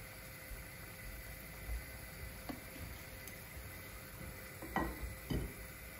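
Pecan nuts roast in olive oil with thyme in a pan, a faint steady sizzle with a few soft clicks and knocks of stirring near the end.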